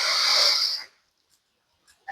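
A single deep inhale taken while bending into the knees during a balance exercise, a loud, close breathy rush lasting under a second, followed by near silence with a faint small sound at the end.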